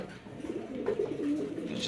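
A large female Spanish Pouter pigeon coos softly nearby, a few low throaty rolling calls over faint background noise.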